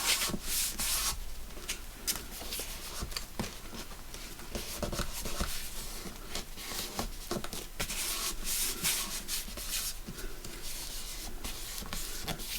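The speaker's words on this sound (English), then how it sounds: "And I'm going to just burnish that as well" Paper being burnished onto craft pages of a gingerbread man journal, a soft, close rubbing with quick scratchy strokes repeating irregularly, quiet and without talk.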